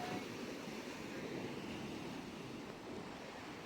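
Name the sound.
fast-flowing water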